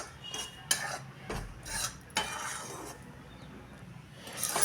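A spoon scrapes and stirs jowar flour as it dry-roasts in a pan over a medium gas flame, giving a series of close scratchy strokes and light clinks against the metal.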